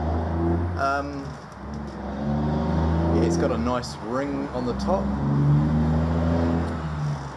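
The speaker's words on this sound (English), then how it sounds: "Excuse the traffic outside." Road traffic passes outside, a low rumble of cars swelling and fading under a man's close speech, with faint bird calls in the background.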